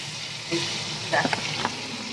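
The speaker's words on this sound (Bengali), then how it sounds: "এদিকে তেল গরম হয়ে গেছে আমি খাবার আগে ধোকার আলুগুলোকে ভেজে নেব" Seasoned potatoes sizzle in hot oil, a steady soft frying hiss with a few brighter splashes and clinks as they go in, faint voice murmur beneath.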